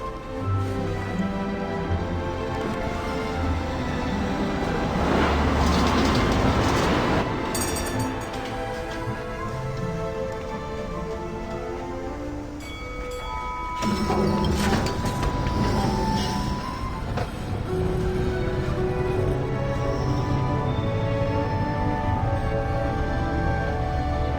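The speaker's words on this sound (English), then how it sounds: "But here's our tram." A tram pulls in within the game Syberia The World Before, its wheels rumbling and squealing on the rails over a sustained mechanical drone, loud and close, with metallic clinks and tonal whines rising as it arrives.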